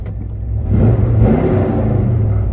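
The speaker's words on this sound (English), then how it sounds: "Give Uncle Larry a little rev." A 1972 Chevelle engine revved once in the driveway, rising sharply from idle into a loud close roar that holds briefly then eases back toward a rumbling idle.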